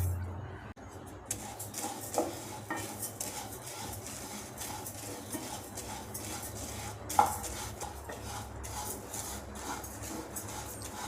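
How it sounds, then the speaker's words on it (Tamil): Flattened rice (aval) dry-roasting in a pan, with quiet rustling and occasional clinks of a spoon against the metal, plus one louder knock partway through; faint and close. "இந்த இதில் பேனில் போட்டு வறுத்துக்கலாம்."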